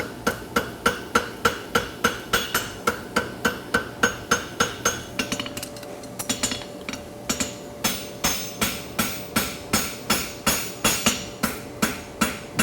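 A hammer forges a lateral extension bar horseshoe with a long, steady series of ringing metal strikes at an even rhythm. A brief pause comes midway, then the blows resume. There is no talking.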